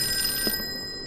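An old-fashioned telephone bell rings once in a dark Call of Cthulhu game scene, a short ring that cuts off and leaves a steady electronic hum.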